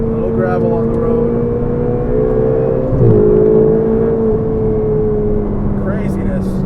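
A Ferrari 488 GTB engine drones steadily as it accelerates along a road, its loud, sustained tone dipping briefly at a gear change midway before climbing on.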